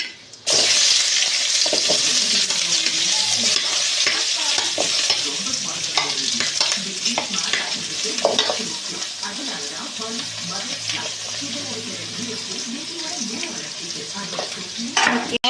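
Onions fry in hot oil with mustard and cumin seeds, a steady close sizzle with scattered stirring scrapes and clicks throughout, and no voices over it.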